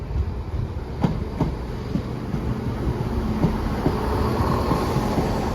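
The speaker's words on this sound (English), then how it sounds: "terminating here at Leamington Spa for Stratford-upon-Avon is going to be another Chiltern Railway service" A Chiltern Railways Class 168 diesel multiple unit at Leamington Spa station, heard as a steady low rumble with rhythmic wheel clicks and clunks over rail joints, close by and alone without talk.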